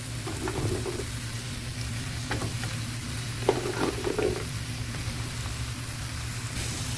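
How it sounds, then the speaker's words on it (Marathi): Dried fish being sautéed with onion and tomato in a pan, giving a low steady frying hiss with occasional scraping spatula strokes and one sharp knock midway, close and fairly quiet, no voices. "आठवड्या टाकून घेऊन त्यांना तर परतून घेऊया"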